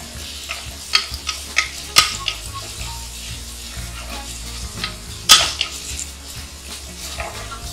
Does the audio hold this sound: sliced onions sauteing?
yes